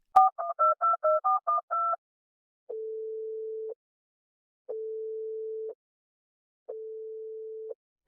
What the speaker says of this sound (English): She took out her phone and called her husband.